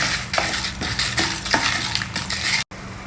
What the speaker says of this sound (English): Now lightly roast all these ingredients together till the dals and spices